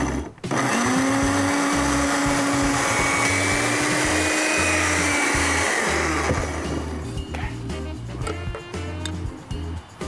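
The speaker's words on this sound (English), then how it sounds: "we're gonna go ahead and blend our marinade" A blender whirs steadily at close range, blending a jerk chicken marinade with olive oil; the motor holds a loud, continuous drone for most of the run, then its pitch shifts and the sound eases slightly near the end.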